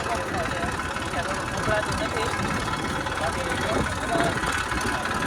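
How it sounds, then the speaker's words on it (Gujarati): Farm tractor engine idling in a village, a continuous rumbling drone that stays steady and fairly loud throughout, with no speech on top. "હવે ફેમિલી આપણું ટ્રેક્ટર આવી ગયું છે"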